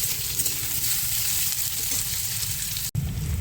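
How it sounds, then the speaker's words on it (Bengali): Onion fries in a pan with a steady, close, dense sizzle that continues unbroken apart from one brief dropout near the end; no voices. "একটু একটু নাড়াচাড়া দিয়ে দিলাম পেঁয়াজটা একটু হালকা লাল লাল ভাজা হবে"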